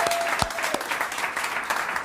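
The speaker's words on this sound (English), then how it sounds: "Let's give the captain another round of applause." An audience at a riverfront festival announcement gives the captain a round of applause, brisk continuous clapping with a few louder claps close by.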